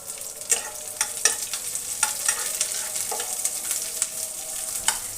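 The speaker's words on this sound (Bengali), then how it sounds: "সেটা দিয়ে আরও কিছুক্ষণ ধরে নেড়ে চেড়ে একটু ভেজে নেব।" Chopped onion frying in a pan for a mashkalai dal dish, a continuous bright sizzle broken by occasional scraping stirs of a spatula, close and unvoiced.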